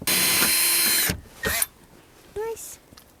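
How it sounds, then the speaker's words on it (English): A power drill bores a pilot hole from inside a house wall for an exterior exhaust vent, a steady high whine for about a second, then two brief further bursts separated by near silence. "I'm going to drill from the inside in here, outside, for a pilot for our exterior exhaust vent."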